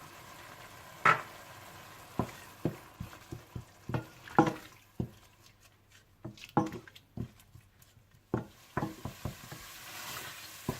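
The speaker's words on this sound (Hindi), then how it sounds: "आप इसमें सुर्ख मिर्च पाउडर, जीरा पाउडर, धनिया पाउडर, हल्दी और नमक डालकर अच्छी तरह से भून लें" Red chili, cumin, coriander and turmeric powders with salt roast in a pan, heard as a faint low sizzle under a series of distinct spoon taps and scrapes against the pan at irregular intervals.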